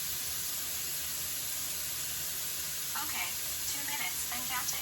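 Steak sizzling in a hot pan, a steady loud frying hiss throughout, with a faint voice briefly audible beneath it near the end.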